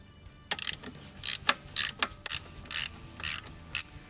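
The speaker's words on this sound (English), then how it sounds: "A ratchet and socket should work perfect." A ratchet and socket loosen a 12 mm adjustment bolt on a car engine's alternator bracket, heard as a series of close, crisp ratcheting bursts repeating in quick strokes with short pauses between them.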